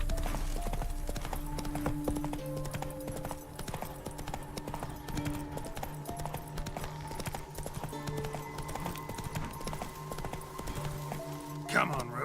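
Roach, a horse in the video game The Witcher 3, gallops with continuous clip-clop hoofbeats under game music, with a brief whinny near the end and someone speaking over it.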